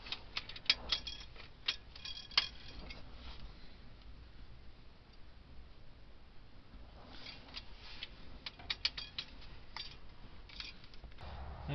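A ratchet wrench clicks in quiet bursts while tightening cylinder head bolts on a GM 250 straight-six engine, with rapid ratcheting runs near the start and end separated by a calmer stretch.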